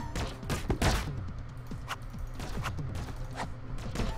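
Gunfire in a video game crackles through a busy mix of shots, mechanical clanks and thuds, irregular bursts scattered across several seconds at moderate loudness.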